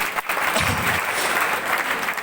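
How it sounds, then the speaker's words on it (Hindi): A seminar audience claps loudly and steadily, dense continuous applause filling the room without pause. "जोरदार तालियां होनी चाहिए आप लोगों को"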